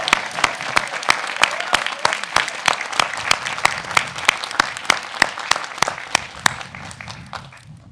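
Steady clapping from a crowd at the OSU-Cascades 2024 commencement ceremony, dense and continuous, with a few louder sharp claps standing out before it tapers off at the end.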